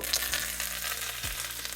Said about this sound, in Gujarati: લીમડો તો ભાઈ ફૂટે બહુ